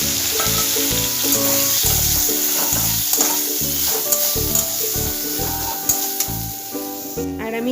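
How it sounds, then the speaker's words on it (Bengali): Eggplant fries in oil in a pan, a loud, continuous close sizzle with the rhythmic scraping and clatter of a spatula turning the pieces, alone without talk. "এদিকে আমি শাকের জন্য এই বেগুনটি ভেজে নেব।"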